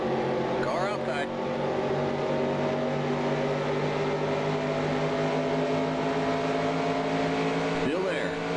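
Stock car engines drone in the NASCAR Racing 2003 video game during a 1992 Winston Cup race at Pocono. The steady, buzzing multi-engine roar is constant throughout, and a spotter's radio voice briefly speaks over it.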